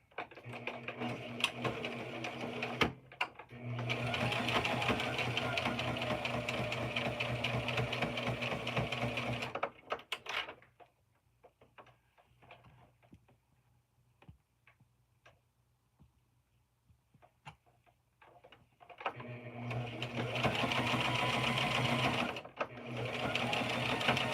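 A sewing machine stitches fabric tabs in two loud, rapid mechanical runs with a quiet pause between them, plus faint clicks and handling noises during the gap.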